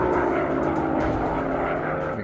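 A World War I fighter plane's propeller engine in a VR combat flight game drones steadily and loudly throughout, a continuous rumbling hum with no pauses.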